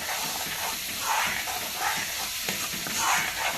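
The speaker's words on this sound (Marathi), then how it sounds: "आता छान असा आपण लाल मस्त फ्राय करून घेऊया" Ground spice masala for a dhaba-style egg curry frying red in a pan, a continuous close hiss and sizzle with stirring scrapes rising and falling.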